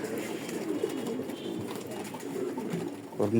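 Racing pigeons at a loft coo softly and continuously in a low murmur, with a slightly louder burst near the end over a steady background.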